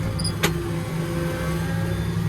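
A tractor engine hums steadily at close range while the plough is lifted on the move, with a brief mechanical click near the start over the constant low drone.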